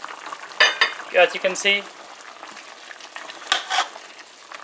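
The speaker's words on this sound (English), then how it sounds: "So our curry is bubbling away, can you hear that?" Chicken curry with potatoes, Guyanese style, bubbling and sizzling in a pot, a soft, steady simmer running under a person talking over it.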